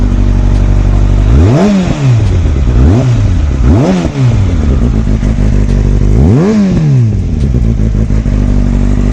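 A Kawasaki ZX6R sport bike fitted with K&N air filters revs repeatedly, its engine rising and falling in about five loud, close throttle blips over a steady idle, with no one speaking.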